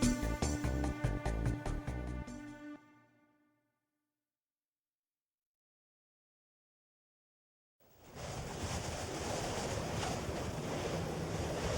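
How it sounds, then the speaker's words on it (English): A water spout surges up in The Granstream Saga, a sustained broadband rushing roar like crashing surf and wind that swells in loudly after a few seconds of silence and holds steady. "That water spout came out of nowhere."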